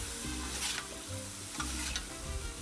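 Kung Pao chicken sizzling on a Blackstone 22-inch griddle, a steady close hiss of frying with faint scraping stirs now and then, no talking.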